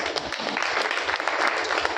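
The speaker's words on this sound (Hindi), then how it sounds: "अब आप ताली मार रहे हैं" An audience claps in a brief, steady burst of dense applause heard by itself.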